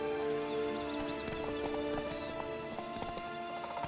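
Roach, a horse in The Witcher 3, gallops with steady rhythmic clip-clop hoofbeats over a game music bed, with a brief whinny and no talk.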